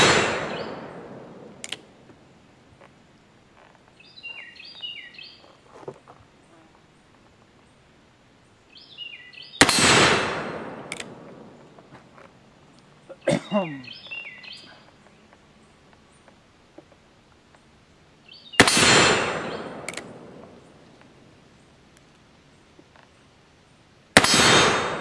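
A Ruger Old Army revolver fires round balls: four loud, sharp shots spaced several seconds apart, each ringing out and decaying, with faint clicks and handling noises in between.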